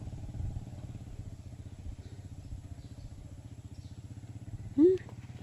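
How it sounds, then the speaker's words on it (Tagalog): A motorcycle engine runs steadily at a distance, a low rhythmic putter with a brief clatter near the end, heard alone without talk. "Nahabol niya yung tunog ng motor."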